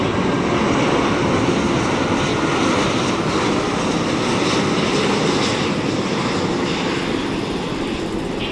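Cathay Pacific Airbus A330-300 on its landing at Tan Son Nhat airport, arriving from Hong Kong onto runway 25R: a loud, steady broadband roar of jet engines and rushing air that holds constant throughout, with no talk.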